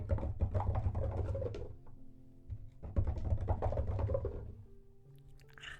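Dice dropped for an ASMR stream clatter in two close, crisp bouts of rapid taps and rattles, with a short quiet gap between them and faint tones in the background.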